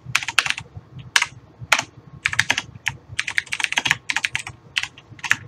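Rapid, uneven clatter of typing on a computer keyboard, keys struck close and clearly in quick bursts with brief pauses, no voices.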